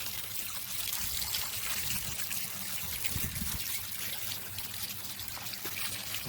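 Water from a community garden irrigation system trickling and pouring steadily, a continuous close splashing flow with slight surges, no talk.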